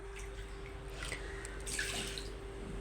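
Three cups of water are poured into a pressure cooker holding toor dal, making a faint, steady splashing trickle over a low background hum, with no talking.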